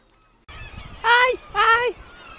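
Geese at Staithes let out two loud, close honks in succession, nasal and insistent, over a low murmur of outdoor background noise.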